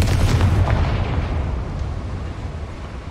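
A Confringo blasting spell in the Hogwarts Legacy video game goes off as one heavy, booming explosion, loud and close, whose deep rumble slowly decays across a few seconds with no voices.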